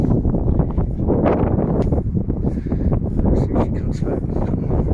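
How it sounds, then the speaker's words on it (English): Wind gusts steadily outdoors around a horse yard, a loud, continuous low rumble buffeting the microphone with no break for the whole stretch. "When it's windy, old horses, they tend to spook a lot more"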